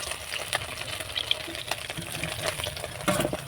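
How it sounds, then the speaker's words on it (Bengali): Pabda fish fry in hot oil in a wok, giving a continuous crackling sizzle with occasional sharper pops and light clatter. "হালকা বাদামি করে ভেজে নেবো মাছগুলো"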